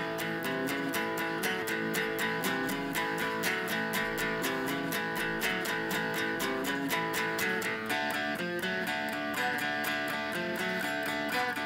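A guitar pumps out a continuous twelve-bar blues shuffle in A, steady swung chord strums moving through changes, close and even in volume with no talking.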